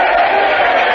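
A nightclub crowd at the Limelight cheers for a band, a dense, loud wash of shouting and applause that fills the whole brief moment without a break.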